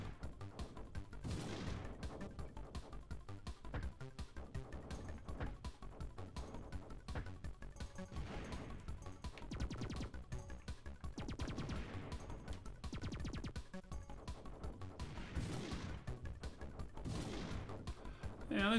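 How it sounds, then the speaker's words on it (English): Rapid, sustained bursts of explosive firing from a boss unloading bounce bombs in a 1993 space shooter video game, a steady rattling barrage that is faint and continuous throughout. "These beasts unload mass amounts of bounce bombs."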